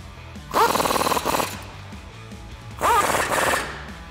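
Power tool tightening axle bolts on a 2009-2013 Ford F150 during a lowering kit install, two separate bursts of roughly a second each with a rattling, hammering impact quality, separated by quieter shop background.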